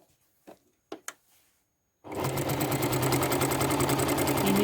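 A sewing machine stitches a quilt along marked registration lines, starting after two seconds of near silence broken by a few soft clicks, then running in a loud, steady, fast mechanical whir to the end.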